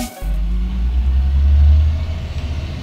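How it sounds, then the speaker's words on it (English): Garbage truck passing down an alley, a loud close low engine rumble that swells and fades over a few seconds with no talk. "Goddamn garbage trucks."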